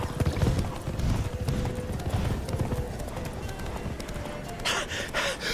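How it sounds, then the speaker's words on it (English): Horse hooves galloping in The Witcher 3, a fast, close clip-clop rhythm over a dull ground rumble, fading toward the end as a faint short breathy sound comes in. "Run, Roach."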